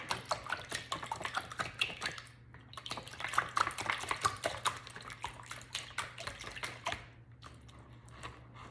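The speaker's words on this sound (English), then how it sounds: "And I'm just going to whisk it." Eggs are whisked in a bowl for quiche, a rapid, steady clatter of whisk wires against the bowl that pauses briefly before carrying on at the same quick rhythm, close and moderately quiet.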